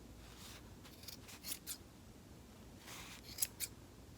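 Scissors snip through yarn loops on a pom pom bookmark, a few quiet, crisp cuts in two small clusters against a faint background.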